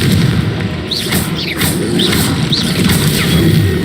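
Confringo blasting spells go off in the Hogwarts Legacy video game as a run of booming thuds and crashes. Brief whooshing streaks come between the impacts over dense low rumble, with no voices.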